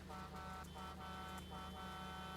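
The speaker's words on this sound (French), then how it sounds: "on va passer vers le patou et écouter le klaxon du bousin là" Vehicle horn in Farming Simulator 19, sounding as a series of pulsing tonal blasts in a steady rhythm over engine drone, fairly faint and with no talk.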